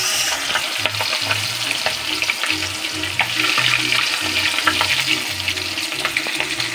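Bagaong fish sizzles and crackles in hot oil in a pan, a loud continuous frying hiss with bubbling and popping, no one talking.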